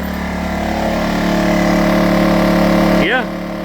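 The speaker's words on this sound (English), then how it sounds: "Let's check and see if it idles itself back down." A Honda-style portable inverter generator running at a steady engine drone, then audibly dropping its revs as it idles back down near the end.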